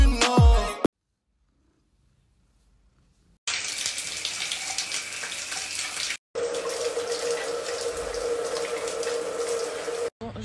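Steady hiss of running water from a shower, starting after a short silence and continuing loud and constant with a brief break, no talking over it.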